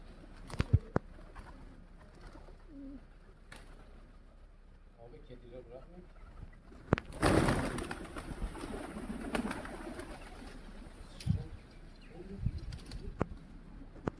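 Wild pigeons coo softly in short repeated courting phrases, with a rustle of wings and scattered clicks and knocks nearby.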